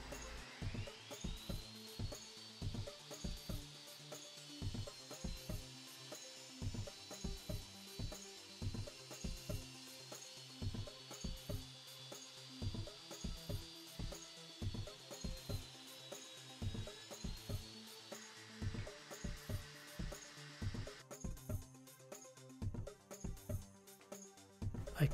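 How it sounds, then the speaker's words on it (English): A table saw runs steadily while making a cove cut in wood, its faint continuous tone accompanied by a repeated series of soft knocks and shuffles from the workpiece being fed, with no voices. "continued to make the cove cut"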